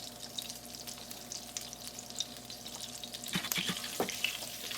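Cumin and carom seeds sizzle steadily in melted butter in a pan. The frying crackle is soft and continuous, with occasional brighter pops and faint stirring toward the end.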